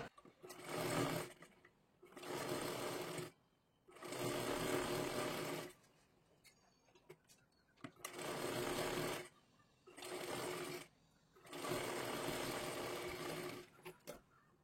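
A sewing machine stitches along the edge of a sleeve in five bursts of rapid, whirring needle clatter, each lasting a second or two. Short quiet pauses separate the bursts, and the sound is close and moderately quiet.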